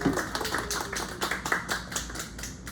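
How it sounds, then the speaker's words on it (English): Audience applause at a bookstore poetry reading welcoming a poet, steady rapid clapping from a modest crowd, moderately distant and fairly faint, with no talking. "let's give her a round of applause and welcome her."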